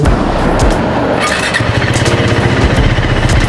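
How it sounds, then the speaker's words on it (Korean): A KTM 390 Adventure motorcycle engine with an aftermarket muffler rumbles loud and close with a throaty, uneven exhaust burble that stays strong throughout. "머플러가 뭐, 신종은 아니고 이제 바뀐 상태이기 때문에 사운드는 순정과는 좀 다를 수 있는데"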